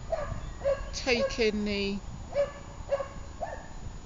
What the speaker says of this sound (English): You can hear a lovely dog barking away in the background.